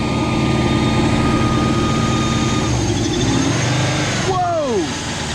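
A car engine with its mass airflow sensor just plugged back in holds a steady mid-pitched hum, then near the end the revs swing up and drop sharply in a quick falling sweep.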